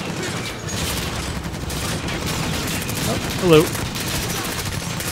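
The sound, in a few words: machine gunner firing in Call of Duty: Modern Warfare video game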